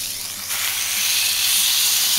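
Smashed burger patties frying in a very hot pan, a loud continuous hiss and sizzle that swells slightly as it goes on, with no talk.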